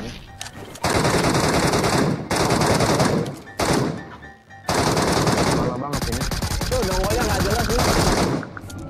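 Loud automatic gunfire in the Metro Royale shooter game, aimed at a giant King Kong boss: long sustained bursts of rapid shots with only brief gaps between them.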